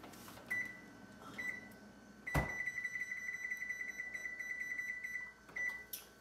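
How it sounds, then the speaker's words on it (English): Kitchen oven control panel beeping as the temperature is turned up: a few short beeps, then a rapid continuous run of high electronic beeps for about three seconds, fairly quiet in a home kitchen. "I need to turn my oven up"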